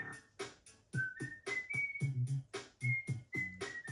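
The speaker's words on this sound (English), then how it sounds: "Hit it with them whistles, I tell ya" Someone whistles a bright, quick melody of short rising and falling notes during the finale of Luigi's Mansion on GameCube. The tune plays at close range over a soft backing beat.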